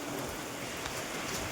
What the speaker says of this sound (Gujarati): વરસાદ બહુ છે, ખોલી લઈશું.